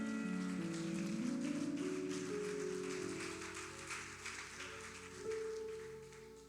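A church congregation claps during a worship service, a dense, steady patter of many hands over sustained organ-like music, fading slightly toward the end.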